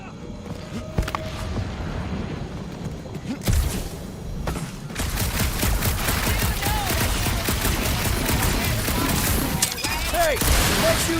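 Gunfire in the Guardians of the Galaxy video game, rapid continuous blasts building from scattered shots into a dense, loud barrage, with voices and game noise mixed in.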